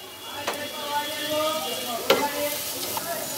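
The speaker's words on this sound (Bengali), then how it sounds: "ভালো করে এখন মাংসর সাথে সবগুলো উপাদান একসাথে মিশিয়ে নিতে হবে" Chicken filling with spices and soy sauce being stirred and fried in a pan, with a steady low sizzle and a few sharp scraping clinks of the spoon against the pan, close by and alone.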